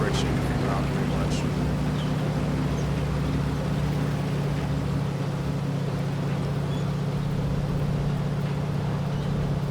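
A Spectre tank from World of Tanks Halloween mode drives along, its engine a steady, close low rumble with a constant droning hum that runs unbroken throughout.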